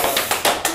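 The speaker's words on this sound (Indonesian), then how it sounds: "Aplaus dulu." Audience applause breaks out at an Indonesian football talk show, a short burst of claps and taps, close and fairly loud, with no talking over it.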